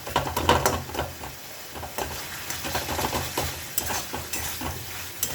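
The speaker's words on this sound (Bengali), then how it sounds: "এটা খুন্তি দিয়ে ভালো করে।" Tomato masala with softened, broken-down tomatoes being stirred and sautéed with a spatula in a hot pan: close, loud scraping and clattering strokes over a constant sizzle, in irregular bursts, with no talking.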